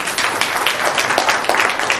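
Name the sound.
audience applauding for a child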